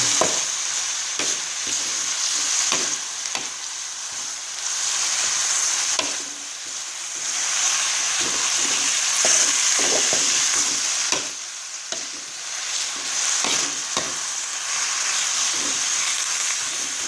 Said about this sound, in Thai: ผัดเลยครับทีนี้ผัด